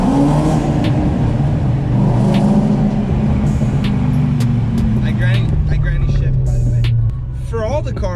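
A BMW 530 E34 engine revs and roars steadily and loudly, with a deep rumbling tone that shifts in pitch, and faint voices in the background.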